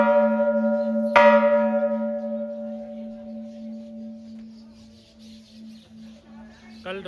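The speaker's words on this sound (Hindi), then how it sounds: "ये बहुत ही प्राचीन घंटा है भाई" An ancient bell at the Bateshwar Dham Shiv temple in Agra is struck once, giving a sharp clang followed by a long, ringing hum that slowly fades over several seconds with faint background noise.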